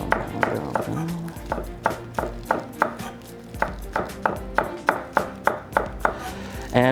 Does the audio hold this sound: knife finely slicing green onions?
yes